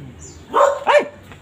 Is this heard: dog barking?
yes